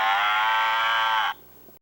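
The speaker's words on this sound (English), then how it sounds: "And then what we think were some cows." A single long, loud moo from a cow on a farm, held steady for over a second before it cuts off and leaves near silence.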